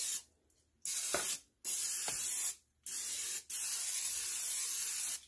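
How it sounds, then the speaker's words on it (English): Cooking spray hisses from an aerosol can onto a casserole pan in several separate bursts, some short and one long, with brief silences between them, close and clear with no talking. "It says to spray your pan"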